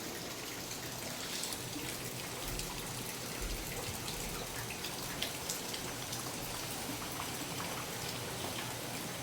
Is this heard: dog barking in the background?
no